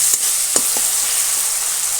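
Spicy masala of tomato, turmeric and chilli powder sautéing in a pan for an okra chop, with a steady close sizzle and a few soft stirring scrapes, no talking.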